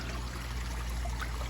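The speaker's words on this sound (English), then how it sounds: "I can divert the flow from the media bed" Water runs steadily through the plumbing of a backyard aquaponic pond with IBC bell siphon filtration, a close, continuous trickling and pouring flow with no pauses.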